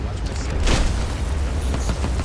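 Grenade blast and gunfire during a Crysis 3 multiplayer match, a loud boom near the start followed by continuous muffled battle noise and scattered shots, with a voice talking over it.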